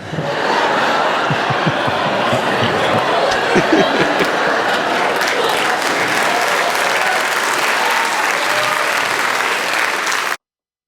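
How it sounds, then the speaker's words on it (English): Big, sustained audience applause at a standup comedy show, dense clapping at full volume for about ten seconds before cutting off abruptly, with a few cheers mixed in. "That didn't deserve that big of an applause break."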